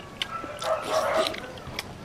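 A dog barks and yips a few times at close range, short sharp calls with a whimpering edge, while people talk faintly nearby.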